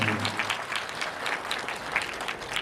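Audience at a religious discourse in Rampur Bushahr applauding steadily, dense continuous clapping heard throughout at moderate distance.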